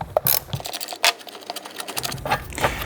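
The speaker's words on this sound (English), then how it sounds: "we're going to grab an 18mm wrench and we're going to loosen up this bolt" An 18mm wrench works loose a rear suspension bolt on a Volkswagen/Audi MQB chassis, giving sharp metallic clicks and ratcheting taps in irregular bursts, close by, with a quiet gap in the middle.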